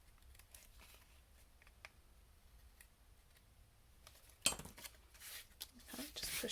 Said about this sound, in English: take your snips and you're going to follow the edge of the circle, just trimming off those overhanging